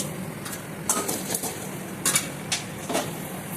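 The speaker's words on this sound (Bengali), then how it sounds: "আমি তেলের মধ্যে ফোড়ন দিয়ে দিচ্ছি, তেজপাতা, শুকনো লঙ্কা আর হলো গরম মশলা" Bay leaf, dried chilli and garam masala temper in hot oil for a Bengali katla fish kalia, with a soft steady sizzle under repeated clinks of a metal spoon against the pan.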